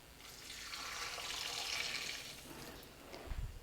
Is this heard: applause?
no